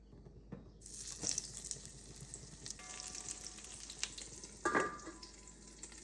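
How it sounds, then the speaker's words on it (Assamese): Brinjal frying in a pan gives a steady, fairly quiet sizzle, with a few soft stirring knocks and clatters, including a slightly louder one near the end. "বেঙেনাখিনি ফ্ৰাই কৰি আছোঁ"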